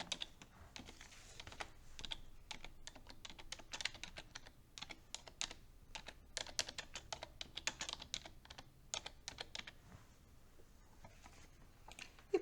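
A title is typed on a computer keyboard for a spreadsheet table in a steady series of quiet, close key clicks that thin out toward the end, with no talk.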